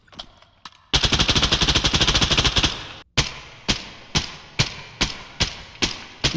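Gunfire with M995 rounds in the video game Contractors Showdown ExfilZone: a sustained loud automatic burst for about two seconds, then a brief gap and a steady series of single sharp shots at regular intervals.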